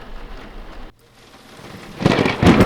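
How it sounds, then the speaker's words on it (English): Thunder rumbles low beneath falling rain, a brief quiet break before the storm swells louder, with heavy rain hissing and thunder rolling close. "Thunder's such a grumbling sound."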